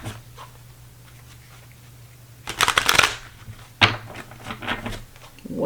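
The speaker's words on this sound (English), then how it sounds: "One more shuffle." A deck of cards is shuffled by hand at close range in two quick riffling bursts, each a dense crackle, over a quiet room with a low steady hum and a few faint handling sounds.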